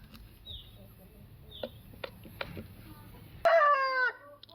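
A Tamil Nadu lineage double-bodied rooster crows once, clear and fairly close near the end, after quieter clucks and faint farmyard sounds.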